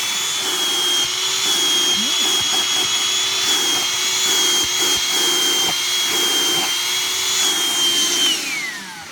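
A Black & Decker cordless bagless vacuum cleaner runs with a steady, loud high-pitched motor whine and airflow rush, holding constant before winding down at the end.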